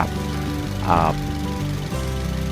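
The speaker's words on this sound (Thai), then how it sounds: "ติดเครื่องอยู่นะครับ" A car engine idles with a shaking, rough running condition, a steady low rumble with a brief louder flutter, while someone talks over it.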